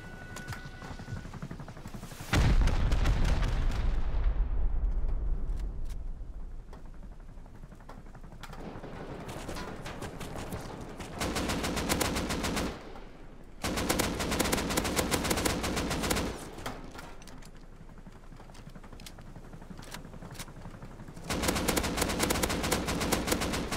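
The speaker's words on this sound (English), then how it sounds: "Oh, it's rockets again." Rocket barrages and explosions in the survival game Rust, heavy rumbling blasts in long loud bursts, broken by brief lulls and followed by crackling rapid fire.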